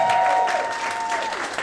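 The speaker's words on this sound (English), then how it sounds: "could we just have a cheer for July?" Audience at a talk celebrating the Lionesses' win breaks into a short burst of cheering and clapping, a dense wash of crowd noise with a whistle near the start.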